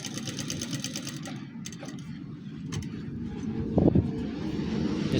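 An unthreaded sewing machine runs steadily in a close, continuous whir during a gents' kameez tailoring job, with a light clunk near the end.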